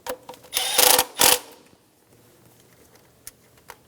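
A ratchet snugs down a bolt on an Infiniti G35 engine during valve cover replacement, making two short bursts of fast clicking near the start, then a few faint taps, close up.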